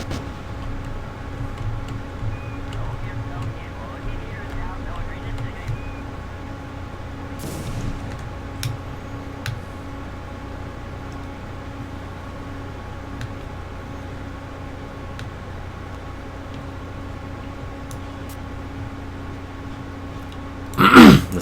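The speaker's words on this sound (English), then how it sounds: "Listen to those engines off in the distance." Distant rocket engines in Kerbal Space Program, a faint steady droning hum with low tonal layers that holds evenly throughout, broken by a few soft clicks and a brief louder burst at the very end.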